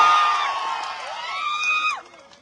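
A political rally crowd cheers and whoops loudly in a brief burst of massed voices that fades out quickly near the end.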